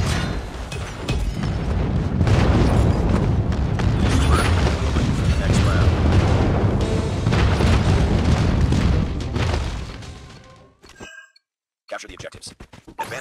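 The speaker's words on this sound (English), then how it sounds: "Airstrike incoming." Airstrike explosions in the shooter Call of Duty Mobile: a sustained roar of heavy booms and rumbling blasts with mechanical clinks, then an abrupt cutoff and a few scattered sounds, with voices in the mix.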